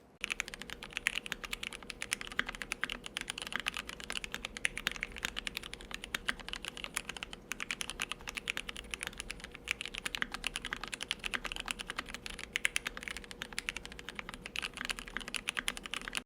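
Steady, fast typing on a GMMK Pro keyboard fitted with lubed milky-top, black-bottom Gateron yellow switches and EPBT X GOC black-on-white keycaps, a dense, even stream of muted keystrokes close up with no talk.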